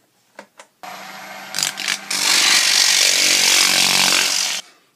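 A few short scrapes, then a loud powered sander whirs steadily against a turned wooden toy car for several seconds before cutting off abruptly.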